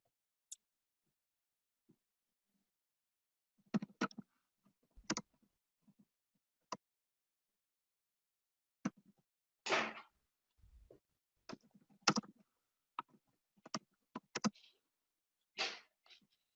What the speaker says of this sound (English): Are you typing or?